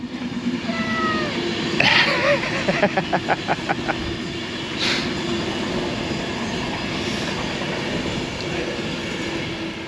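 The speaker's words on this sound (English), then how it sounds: "The hills are alive with the sound of trains!" A train on the Northampton & Lamport Railway rumbles past nearby with a rapid run of clacking wheel beats, faint squeals and an outdoor wash of noise.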